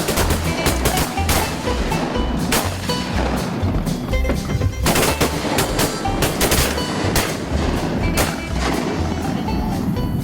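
Shotgun blasts during a hunt: several sharp, loud reports spaced irregularly across the stretch, some closer and some farther off, over a steady low rumble.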